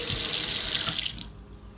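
A kitchen faucet, just repaired after leaking, gushes water loudly into the sink and then shuts off abruptly, leaving quiet; no voices.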